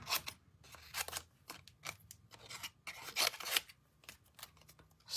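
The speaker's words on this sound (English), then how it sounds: "I'm just going to stamp this on a scrap and then I'm going to cut it out." Scissors snip through a stamped paper scrap in a quick irregular series of close, crisp cuts with short pauses between strokes, no talking.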